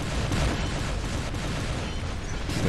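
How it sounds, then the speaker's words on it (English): Many weapons firing at once in the War Robots video game, a dense, continuous barrage of booms and blasts merging into a loud, unbroken roar. "It's a lot of different weapons firing"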